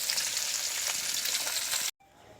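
Fish frying in a pan of oil, a dense, steady hiss of close sizzling that carries on evenly and then cuts off abruptly, leaving faint room sound.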